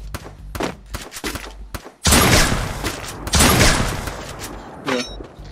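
Gunfire in a shooter video game, a series of sharp shots and thuds followed by a dense, loud burst of rapid fire, with a few scattered shots after.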